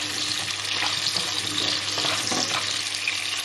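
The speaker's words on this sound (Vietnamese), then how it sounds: "Tiếp theo mình sẽ cho cái này vô dầu chiên." Mushrooms fry in hot oil over a high flame, giving a steady, dense sizzle that stays loud and even throughout with no talking.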